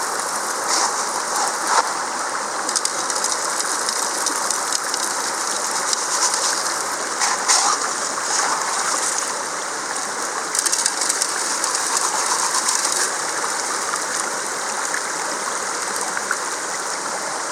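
Dirt from a dug hole tipped onto a gold sluice ramp at an ancient Roman mine, heard as a steady rushing, hissing wash of water and grit with occasional brief clattering, loud and close throughout.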